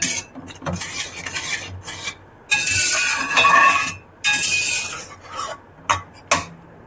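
Bottle gourd curry with sour yogurt is stirred with a little water in a pot, making close, rough scraping and rubbing strokes in uneven bursts with short pauses and a few light clinks.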